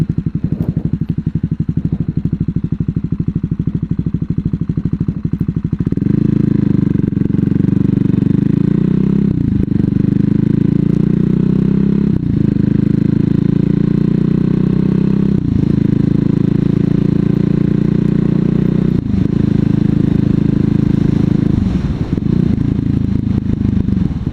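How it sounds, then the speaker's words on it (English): A CCM Spitfire bobber's single-cylinder engine heard while riding, a loud, close, throbbing thump that rises in pitch through several gear changes with brief dips between them. "You do feel quite a lot of vibration because of it being a single cylinder"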